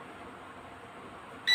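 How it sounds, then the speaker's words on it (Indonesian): An XKJ S608 drone undergoing compass calibration gives one short, clear electronic beep near the end, following a quiet stretch of faint background hiss. "pusing lagi 3 kali sampai bunyi beep"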